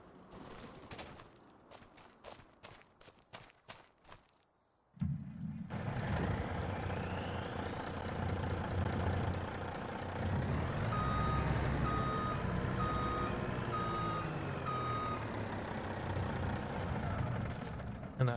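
Farming Simulator 25 truck backing up on a Canadian farm, its steady reversing beeps repeating over a loud engine rumble that starts abruptly partway through, after earlier sharp clicks.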